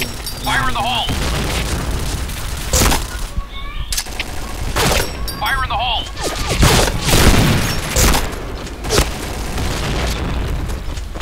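Repeated booming grenade blasts in the game Point Blank, sharp explosive bursts scattered through the clip over constant background noise and gameplay chatter.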